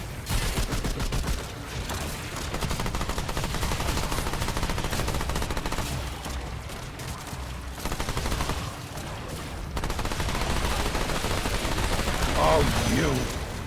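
Enemy gunners firing guns in the Remnant 2 video game: dense, sustained bursts of rapid gunfire and volleys blend into a loud, continuous barrage.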